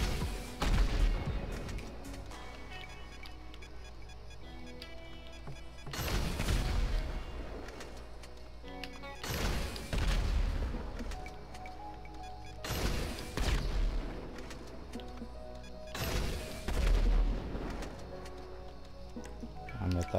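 Bomb explosions in GTA V boom out in several loud, separate blasts spaced a few seconds apart, each with a heavy low rumble that slowly fades, heard over a quieter game background.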